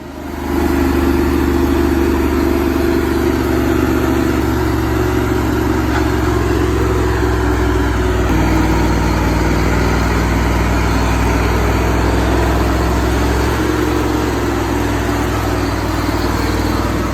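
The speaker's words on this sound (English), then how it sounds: "Heavy loaded timber truck crawls a rough slope like a steel beast." The diesel engine of a heavily loaded timber truck drones steadily and loudly as it climbs a rough slope, holding an unbroken low growl with little change in pitch throughout.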